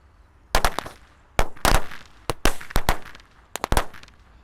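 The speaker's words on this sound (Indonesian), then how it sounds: "di sini ada mercon korek yang paling banter" A string of New Year firecrackers bursts in sharp, loud cracks, irregular clusters of pops with brief gaps between them, close and echoing outdoors.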